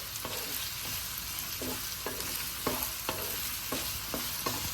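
Beans fry in a pan for vegetable vermicelli fried rice, a steady close sizzle with a regular series of short scraping knocks as a spatula stirs them.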